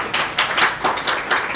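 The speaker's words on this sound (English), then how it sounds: "you can clap." Brief burst of audience applause at the end of a graph database talk, a room of people clapping together in a dense, steady patter for about a second and a half.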